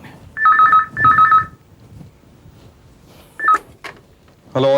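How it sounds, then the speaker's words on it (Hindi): Telephone ringing late at night in a house, two loud electronic trill bursts close by, then a shorter ring and a clunk before a voice starts to speak. "इतनी रात गए, किसका फोन है?"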